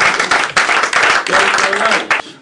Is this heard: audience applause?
yes